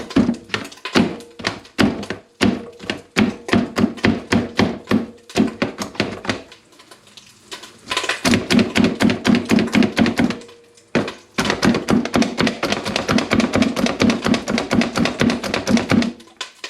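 Vegetables for homemade chili are chopped on a cutting board, a close, loud run of rapid rhythmic knife thunks in bursts separated by short pauses.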